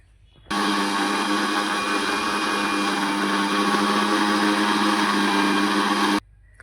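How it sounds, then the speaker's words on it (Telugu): An electric mixer grinder churns cream in its jar to make butter, a loud steady whir that starts abruptly, runs unbroken for about six seconds and then cuts off, with no voices. "ఇలా మిక్సీ పట్టుకుందాం."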